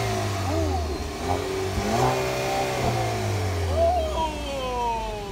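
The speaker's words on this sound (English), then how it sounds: "Listen to the engine, then you can switch modes on it." A car engine in sport mode revs up and down in several rising and falling pulls, loud and close, with a brief exclamation from a person nearby.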